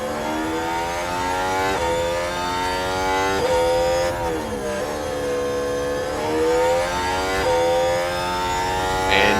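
A Formula 1 car engine screaming down the long back straight in the F1 Manager video game, a loud steady high-pitched whine climbing through gears with brief dips at each shift.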